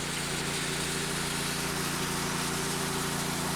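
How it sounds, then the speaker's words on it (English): 12V gold mining trommel running off extension cords at a highbanking site, a steady mechanical hum and whir with a constant tonal drone and broadband rattle, unchanging throughout. "The trommel is now running off the extension cords"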